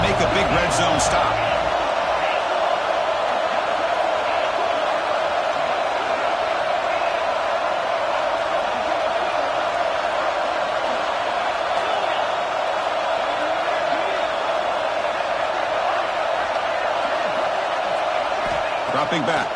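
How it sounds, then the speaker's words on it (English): A roaring football stadium crowd at LSU versus Texas, a dense, loud, sustained wall of cheering and noise held for the whole stretch, mixed with a commentator's voice talking over it. "And here comes the noise. This crowd is trying to inspire this defense to make a big red zone stop."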